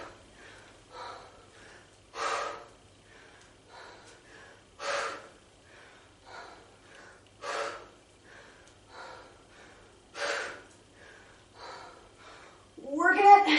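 Heavy rhythmic breathing during a full-body strength workout, forceful exhales and gasps repeating roughly every two to three seconds, close and clear, with a louder burst at the end.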